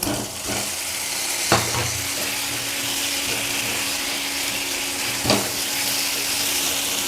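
Potatoes with salt and spices frying in a pan, a steady, dense sizzle throughout with a couple of brief utensil knocks against the pan.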